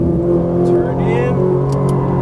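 Ferrari 458 Italia engine accelerating on a track at Exotic Racing Las Vegas, a loud steady in-cabin engine roar with a brief rising rev, heard under a driving instructor's talk.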